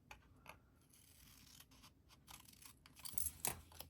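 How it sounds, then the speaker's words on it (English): Scissors snipping through card along a score line, quiet close crisp cuts at an uneven pace that grow sharper and louder toward the end, no speech. "I'm going to cut up to that score line and then just cut that score line off"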